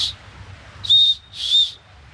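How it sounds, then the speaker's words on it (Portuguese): An emergency survival whistle blown in two short, shrill blasts close by, separated by a brief pause, with a low background hum beneath. "tem um apito para sinalização e resgate"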